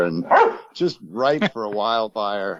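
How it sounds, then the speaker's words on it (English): A pet dog barks several times close by, mixed in with someone talking over a phone line during a radio interview. "Yeah, there's a dog."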